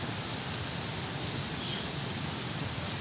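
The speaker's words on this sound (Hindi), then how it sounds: "बारिश हो रही है बारिश ही तो हो रही है" Steady rain falls outdoors as a continuous broadband hiss, even and fairly loud throughout, with no voices over it.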